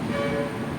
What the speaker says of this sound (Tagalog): ang tutunog ito si busina